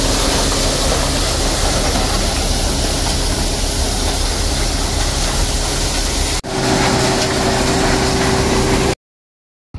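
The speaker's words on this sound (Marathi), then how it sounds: "ट्रॅक्टर मागून येत आहे" A tractor engine comes up from behind in a maize field, making a loud, continuous rumbling drone with a steady hum that cuts off abruptly near the end.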